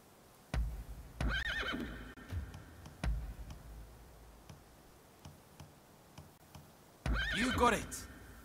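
A horse in Rise of the Ronin whinnies twice, a long shrill neigh near the start and another later, with hoof clip-clops, clicks and spoken dialogue in between.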